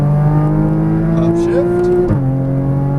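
A Porsche Cayman GTS engine on a race track, close and loud, its tone climbing steadily under throttle before an abrupt drop in pitch at a gear change, then pulling on at a lower note.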